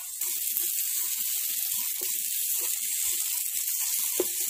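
Taro pieces frying in hot mustard oil, a steady loud sizzle and hiss throughout with small crackles and pops scattered over it, no talking.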